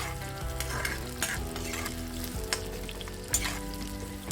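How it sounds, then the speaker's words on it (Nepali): Onions sizzle in a hot pan while being fried golden brown for a village-style fish curry, a steady crackling fry broken by occasional sharp scraping stirs of the spoon, close and fairly loud with no voices. "प्याजलाई गोल्डन ब्राउन नहुन्जेल भुट्नुपर्छ"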